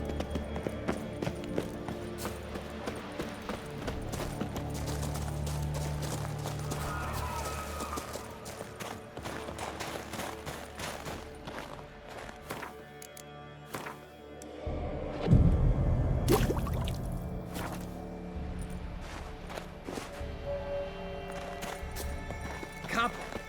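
Horse hooves clip-clopping in The Witcher 3 video game, a steady rhythmic trot under game music and character dialogue, with a louder rumbling thud partway through.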